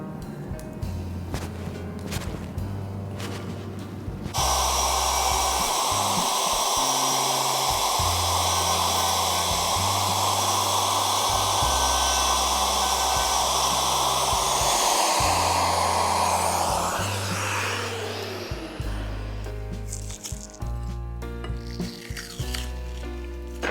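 A handheld wood router rides along a makeshift guide, cutting wood for a fix to an earlier mistake; its steady high whine runs loud and continuous for about twelve seconds, framed by quieter workshop clatter before and after.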